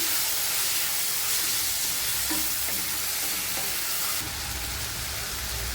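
Curry leaves, green chillies and tomato sauté in hot oil for an anchovy dry fish thokku, making a loud, continuous hissing sizzle up close that swells near the end, with no talking.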